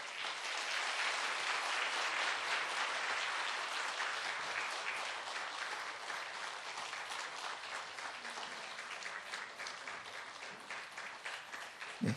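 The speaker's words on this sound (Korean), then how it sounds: "인사드리실 때 뜨거운 박수와 꽃다발로 축하해 주시기 바랍니다." A church congregation gives warm applause for new members finishing a newcomer course, a sustained crowd clapping that fills the room and slowly thins toward the end.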